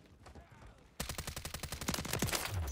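Automatic gunfire in a video game firefight: after a second of low ambient rumble, a sustained burst of rapid, evenly spaced shots erupts loud and close, continuing to the end.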